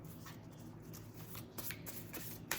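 Tarot cards riffled and shuffled into small decks, a soft, close, rapid flutter of card edges with light taps, quiet and continuous for a couple of seconds.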